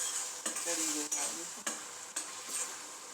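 Pointed gourd sabzi sizzles gently in a pan on a medium flame while a spoon stirs and scrapes it in a few distinct strokes, close up and with no talking.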